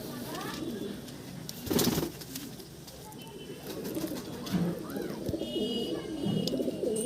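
Pigeons coo softly in a low, rolling rhythm amid busy outdoor ambience, with one brief louder burst near the start.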